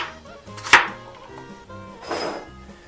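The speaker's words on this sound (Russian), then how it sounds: "Картофель нарезаю кубиком" A knife dicing potatoes for meatless borscht, two sharp chops against a board about a second and a half apart, close and distinct over quiet background hum.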